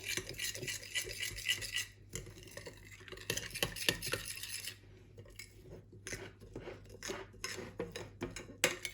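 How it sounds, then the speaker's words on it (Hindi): A pizza mixture is stirred with two to three tablespoons of olive oil, making close, irregular scraping and clinking strokes in a bowl at a low level, with no talk. "और ओलिव ऑयल डालेंगे थोड़ा सा, तकरीबन 2-3 टेबल स्पून। और इसको हम अच्छे से मिक्स कर लेंगे।"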